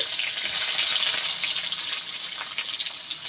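Chopped onions hit hot oil with five-spice seeds, producing a loud, continuous sizzling hiss that stays steady and close, with crackles of frying throughout and no voices.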